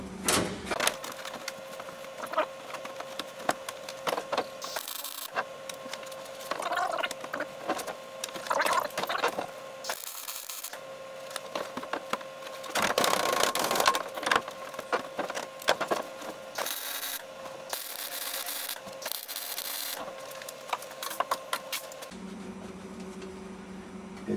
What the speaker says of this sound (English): Time to do a bit of welding.